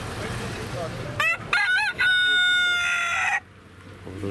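A rooster crows loudly and close at a winter bird market, a drawn-out cock-a-doodle-doo over a low crowd murmur, with chickens clucking briefly before and after.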